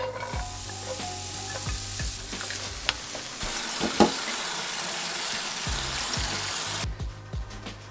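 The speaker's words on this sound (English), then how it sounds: "get it into the frying pan" Onion sizzles steadily in a hot frying pan, a bright continuous crackle with occasional scraping stirs, close up, then the hiss drops off near the end.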